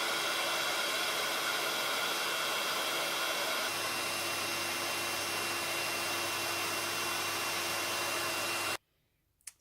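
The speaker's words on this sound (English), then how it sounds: "Now I need my heat gun. As I do this, I hope you can see it melt." A heat gun melting embossing powder blows a loud, steady, broadband whoosh for about nine seconds, close by, then cuts off abruptly into near silence.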